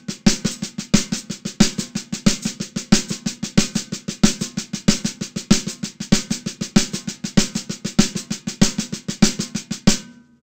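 Drum kit played in a steady, dense stream of stick strokes, a displaced paradiddle sticking starting on the left hand with accents moving around, loud and close, with no voice for about ten seconds.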